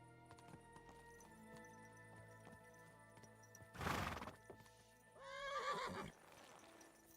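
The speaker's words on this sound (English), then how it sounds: "It's so much faster when you're on horse." Faint rhythmic hoofbeats with background music in Kingdom Come: Deliverance 2, then two loud horse whinnies, one sharp and one longer, in a game-like soundscape.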